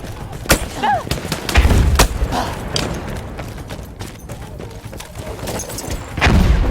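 Gunfire and distant mortar thuds in the World War I shooter Battlefield 1: scattered sharp shots and a few heavy booms over a steady rumbling battlefield bed, moderately loud, with a couple of loud hits near the start and end.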